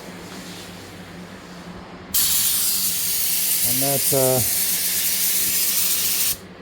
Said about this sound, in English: I'm just going to spray down here.